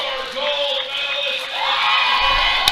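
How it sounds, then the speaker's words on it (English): Loud, sustained crowd roar with whoops and shouts at a powerlifting world masters championship as a lift is locked out, dense and continuous with a brief spike near the end. "The crowd is going crazy."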